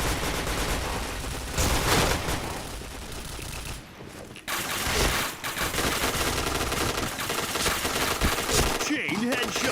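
Rapid bursts of automatic gunfire from the online shooter Point Blank, loud and dense, rattling almost continuously with a brief lull midway and faint voices beneath.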